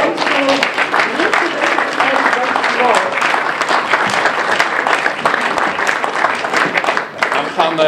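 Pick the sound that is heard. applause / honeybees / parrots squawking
applause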